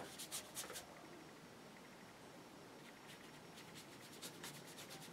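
A paintbrush scrubs watercolour paint on paper in short, faint, rapid bursts of dry rubbing, close up, with a quiet hiss between the strokes.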